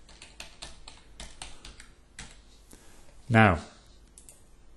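Rapid clicking keystrokes on a computer keyboard in irregular bursts, close and moderately loud, with a short spoken word breaking in near the end.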